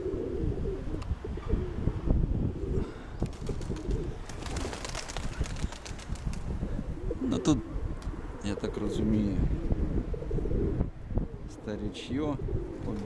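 Pigeons coo repeatedly around a dovecote, among them a steel-grey hen pigeon, with soft rolling calls rising and falling over a breezy background while a person talks nearby.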